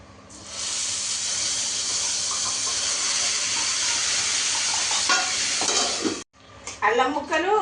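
Ground masala paste for aloo kurma hitting a hot pan, a loud continuous sizzle that runs for several seconds, then stops abruptly and gives way to lighter stirring and scraping sounds.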